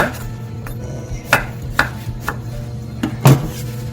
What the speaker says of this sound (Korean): 좋은 크기로 이렇게 듬성듬성 썰어줍니다